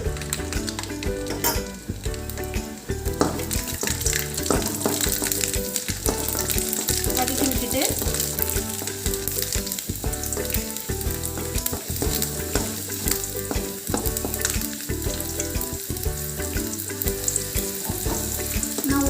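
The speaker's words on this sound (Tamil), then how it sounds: "வதக்கி விடலாம் கூடவே பூண்டு ஒரு அஞ்சாறு பல் சேர்த்து" Garlic cloves sauté in hot oil in a pan for kara chutney. A loud, steady sizzle runs throughout, broken by frequent scraping and stirring sounds, close and with no talking.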